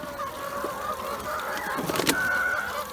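Loud honking calls from chickens in a coop, a goose-like squawk standing out near the end over a busy outdoor background.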